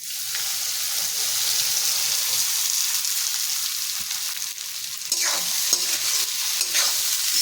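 Grated green pigeon peas fry in hot oil with tempering and chilli paste for lilva kachori, a steady close sizzle with scraping stirring strokes and a few clinks of the spoon, no talking.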